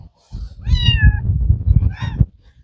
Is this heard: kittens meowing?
yes